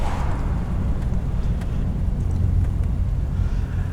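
A 1947 Cadillac sedan with a 350 engine cruising on a road, a steady low rumble with broad road and wind roar, constant and fairly loud throughout with no voices.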